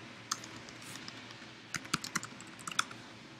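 Typing on a computer keyboard: scattered single clicks, then a quicker burst of key taps, close and quiet in a calm room.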